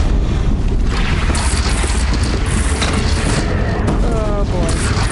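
A bridge blown apart in Horizon Zero Dawn, a loud rumbling explosion with booming crashes and debris falling, dense and continuous, voices speaking over the blast.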